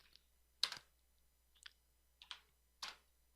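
Keys clicked on a computer keyboard during programming, ending with the Enter key: a few separate, crisp, close taps spaced about half a second apart in a quiet room.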